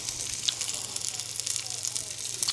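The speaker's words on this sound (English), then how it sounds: "Oh, that wasn't that great of a sizzle." Fat cap of a New York strip steak sizzling in a hot pan, a steady soft hiss with faint crackles, fairly quiet and close, with a low hum underneath.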